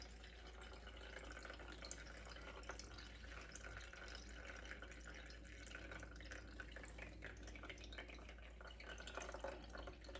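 Elderberry syrup mash drains through a cloth, giving a faint, steady trickle with soft scattered drips close by and no voices.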